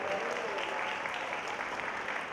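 Middle school winter concert audience applauding, a dense, even wash of many hands clapping that fills the whole stretch without pause.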